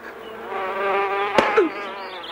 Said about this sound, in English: Get the bee away. It's a killer bee.